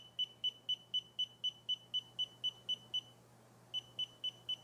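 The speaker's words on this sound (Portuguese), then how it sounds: "daí ela muda o bip, muda o símbolo ali também" A SNDWAY SW-S50 laser distance meter's high electronic beep repeats in a steady quick rhythm about a dozen times, pauses briefly, then resumes, over a low constant hum.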